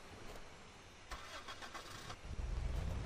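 A car engine rumbles in the video game Dead Island, faint at first, then catching and building into a louder, steady low drone as the vehicle gets moving.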